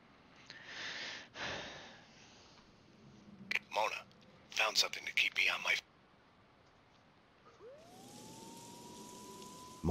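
In Max Payne 2: The Fall of Max Payne, rain hisses steadily while voices speak, then a police siren winds up and holds a rising wail near the end.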